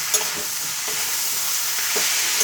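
Spices and small tomato pieces fry in a pan for a Bengali cauliflower-stalk chorchori, a steady close sizzle broken by a few soft stirring scrapes.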